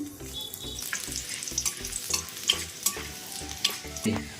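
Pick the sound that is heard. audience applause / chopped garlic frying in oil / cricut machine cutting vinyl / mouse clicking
chopped garlic frying in oil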